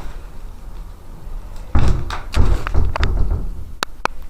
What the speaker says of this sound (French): Une porte vient de se fermer derrière moi.